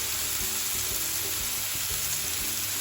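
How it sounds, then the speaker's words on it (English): Doner kebab meat frying in a pan, a dense continuous sizzle close up with faint clatter underneath and no voices. "I'm going to fry this guys, and then I'll show you how it looks"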